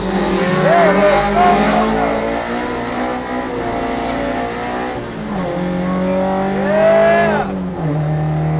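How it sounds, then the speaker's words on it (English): A Toyota AE86 drifts on a wet road in the rain, its engine revving hard and rising and falling while the tires squeal in long sweeping streaks, loud and close throughout. "Drifting is the most addictive thing ever."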